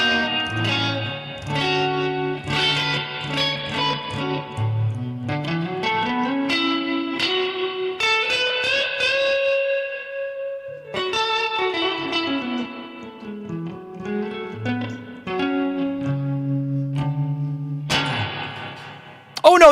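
Electric guitar played through effects pedals with a shimmering, chorus-like tone, sustained chords and melodic notes ringing out with reverb and echo, close and clear, with no talking over it.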